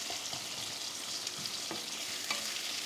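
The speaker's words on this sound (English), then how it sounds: "I'll take 2 sliced onions. We'll cook them until they turn golden brown." Sliced onions with cloves, cumin and a cinnamon stick fry steadily in a pot for chicken rice, giving a continuous soft sizzle with a few faint stirring clinks, no voices.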